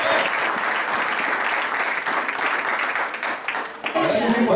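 Congregation clapping in a church service, a dense, steady wash of many hands filling the space, with a voice breaking in near the end.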